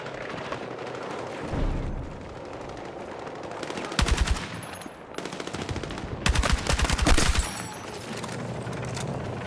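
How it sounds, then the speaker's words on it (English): Rapid bursts of L85A3 rifle fire crack in Battlefield 6 gameplay, several clusters of quick shots punching out over a constant background of distant battle noise. "Burst fire right there."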